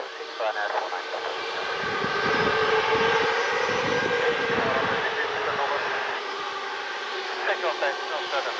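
Aircraft departing runway 26 at Bournemouth Airport, a steady broad engine roar that swells slightly and holds, heard from a distance, with faint radio-style talk underneath.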